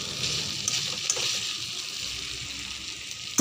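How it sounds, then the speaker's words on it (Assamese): Fried soybeans and potatoes in a pan give a continuous close sizzle and hiss, with a few faint knocks of a utensil and no voices. "ভাজি থোৱা সয়াবিনখিনি দি দিলোঁ।"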